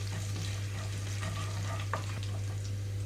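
Soft, steady sizzle of ginger and curry leaves frying gently in oil on a low flame, with a faint stir or scrape near the middle; no voices.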